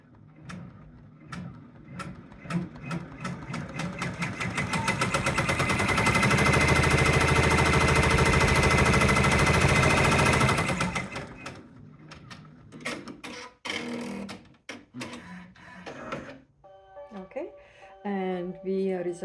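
A home embroidery machine stitches a treat pouch with a dense, rapid mechanical chatter that builds, holds loud for several seconds, then stops, followed by quieter handling clicks and a voice talking.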